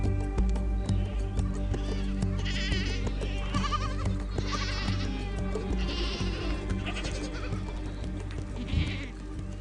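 A herd of goats bleating in the Sahara of Mauritania, several overlapping calls at varied distances over a constant low rumble and faint hoof sounds.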